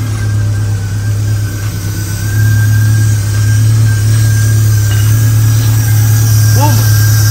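A stock Honda K24 car engine runs at a steady loud idle nearby, its low hum rising slightly partway through, while someone talks over it.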